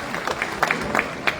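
A brief burst of audience clapping for the poet Saqib Junaidi at a poetry gathering in Dubai, scattered individual claps over a low crowd murmur, moderately quiet and somewhat distant.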